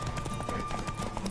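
Galloping horse hooves in a video game, a steady quick clip-clop rhythm running throughout at moderate loudness, close and continuous with no pause.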